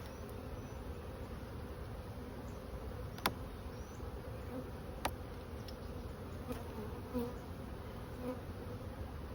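A soft, continuous buzz of many honey bees in an open hive hums close by, with a few louder individual bees flying past the ear.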